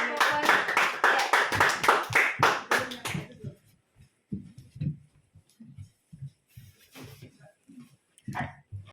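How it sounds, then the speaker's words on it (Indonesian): A burst of group applause from a classroom after a group presentation, about three seconds long, dense and fairly loud, then fading into scattered room noise and brief voices. "sekali lagi tepuk tangan untuk kelompok"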